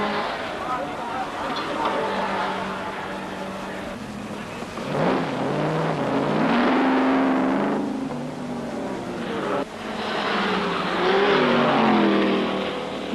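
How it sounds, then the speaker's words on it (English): Racing sedans, including a Holden, roar past on a circuit, engines revving and sweeping by in loud rising and falling passes, with commentary spoken over the noise. "Now the Bond Roberts Holden takes over"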